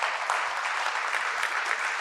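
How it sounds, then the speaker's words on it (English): A live civic event audience applauding, dense continuous clapping from a crowd, steady and fairly loud for the whole moment. "big round of applause for David Cicilline and Anne-Marie Harrington"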